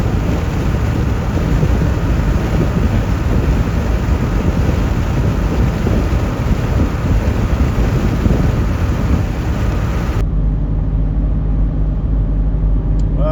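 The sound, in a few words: thunderstorm with thunder and rain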